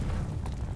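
A bomb detonates in the Call of Duty Vanguard video game: one deep, rumbling blast, loud and heavy at the low end, filling the brief moment with no voices.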